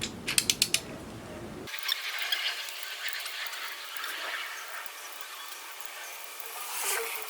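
A torque wrench ratchets on LS engine cylinder head bolts during a turbo engine build. A quick run of sharp clicks opens the clip, followed by softer metallic ratcheting and creaks close by.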